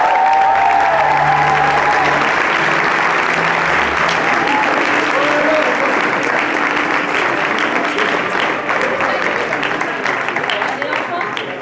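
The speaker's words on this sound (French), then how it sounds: "un tonnerre d'applaudissements pour Caroline Vigneault" Loud, sustained applause from an audience at the final of a student eloquence contest, a thick continuous roar of many clapping hands that stays strong throughout. Faint voices and brief tones sit under it at the start.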